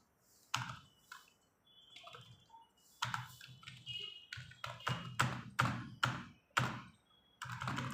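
Computer keyboard typing during GST accounting data entry, with irregular close key taps and heavier thunks in uneven bursts, some keystrokes louder and spaced apart.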